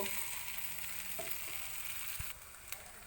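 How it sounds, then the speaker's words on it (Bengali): Ground spice paste fries in a pan for a Bengali prawn malai curry, giving a steady, fairly quiet sizzle with a couple of brief stirring knocks. "পেস্ট করা মশলাগুলো সব আমার 1 মিনিট করে ভাজা হয়ে গেছে"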